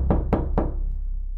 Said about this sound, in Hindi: दरवाजे के पास पहुंचते ही सोन दरवाजे को खटखटाता है।